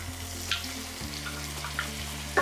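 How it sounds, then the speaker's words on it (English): Tomatoes frying with softened onions for Amritsari chole give a steady, close sizzle with a few soft stirring scrapes, no voices. "I will cook my tomatoes till they are nice and mushy."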